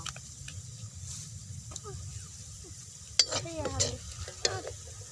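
Meat masala and cumin frying in a pan while being stirred, a soft low sizzle under intermittent scraping and clinking of the stirring utensil, with brief faint voice-like sounds in the background near the end.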